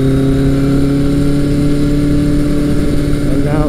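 Loud, close engine revving from a 1983 Kawasaki GPZ 1100 motorcycle after repair, a smooth sustained drone that rises slightly in pitch near the end.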